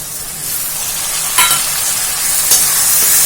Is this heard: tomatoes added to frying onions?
yes